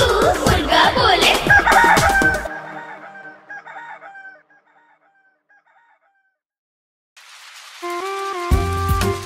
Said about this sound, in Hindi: कुकड़ूकू कुकड़ूकू मुर्गा बोले।